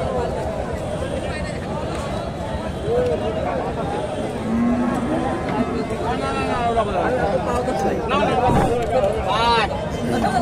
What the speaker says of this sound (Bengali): ফ্রিজিয়ান গাভী, হাই কোয়ালিটির।